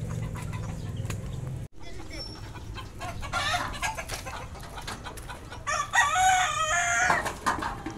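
Chickens cluck and crow around a busy outdoor yard, with a rooster's call standing out near the end over steady background noise.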